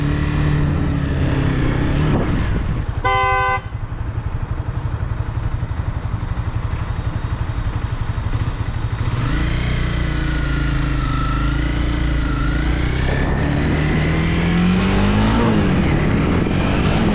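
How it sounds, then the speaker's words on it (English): Steady engine drone of heavy road traffic heard while riding a Honda CBR 300R motorcycle, with one short horn-like tone near the start and a rising engine surge later in the clip. "There's hella traffic."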